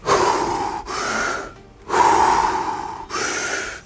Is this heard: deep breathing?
yes